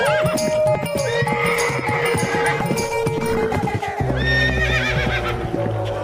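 A horse neighing as a story sound effect, with loud whinnies over a dense, busy background and hoof clip-clops, ending in a sustained higher whinny over a low rumble.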